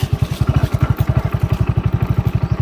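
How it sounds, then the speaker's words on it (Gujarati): A motorcycle engine sputters and chugs in a steady rapid thumping rhythm, loud and close, as it is started, with no talk. "આ મારું બેટું મોટરસાયકલ છોડતું હોય એવું લાગે છે."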